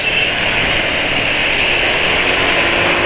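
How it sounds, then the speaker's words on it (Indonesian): A steady engine drones continuously at low RPM, running rough with a grainy texture and no talking. "Kalau pas RPM rendah suaranya mesin kasar ya"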